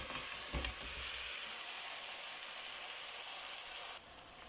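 Chicken roast sizzles in a pan as it is stirred and mixed, a steady close frying hiss with a brief scrape near the start, dropping slightly quieter toward the end.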